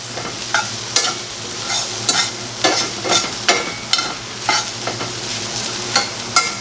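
Hash frying in ghee in a pan sizzles steadily while a utensil stirs and scrapes through it, sharp scraping strokes recurring roughly every half second over the constant hiss.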